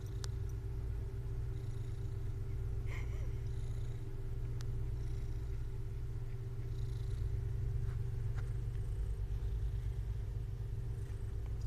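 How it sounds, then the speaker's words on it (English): A pet cat named Amber purrs close by in a steady, rhythmic low rumble that runs the whole time, fairly quiet, with a few small clicks and faint background sounds. "You hear the purrs?"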